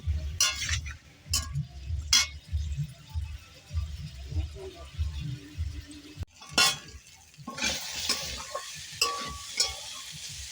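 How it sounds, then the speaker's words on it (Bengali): A spatula stirs rohu fish curry with kohlrabi in a hot pan, with repeated scraping and clinking against the metal over a soft sizzle, in uneven bursts up close. "এবার ভালোভাবে কষিয়ে নেবো"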